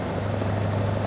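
A Kenworth K100 truck engine in American Truck Simulator gives a steady, droning hum with a strong low tone, continuous, close and even, with no talking.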